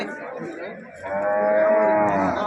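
A cow about to give birth at the Karungalpalayam cattle market in Erode lets out one long, loud, close moo that swells and holds to the end.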